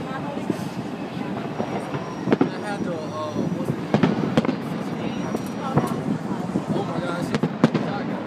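July 4th fireworks and firecrackers going off near a home, with sharp irregular pops and bangs and crackling bursts scattered over a steady background, while people talk nearby.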